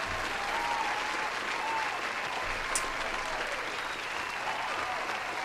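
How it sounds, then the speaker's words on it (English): Sustained round of applause from a crowd at a live GameFace gaming show, steady dense clapping filling the whole stretch at an even level with no voices on top. "Here's another round of applause for our winner."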